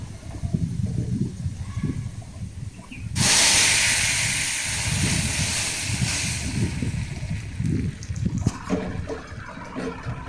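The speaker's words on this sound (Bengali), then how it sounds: "তো এখানে আমি ডালটা বাগার দিয়ে নিব" Lentils go into a hot onion tempering with a sudden loud hiss that rises abruptly and then settles into a steady sizzle, over low rumbling kitchen noise and no talking.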